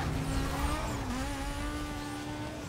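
A car engine revs steadily and strains as it accelerates in the racing game Need For Speed Most Wanted, with a sustained rising tone and a faint tire-squeal edge.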